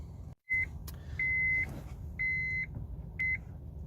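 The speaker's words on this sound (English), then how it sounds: "right, stop beeping" A Honda Civic aftermarket satnav head unit emits a series of four sharp electronic beeps of varying length, close and clear over a low in-car hum.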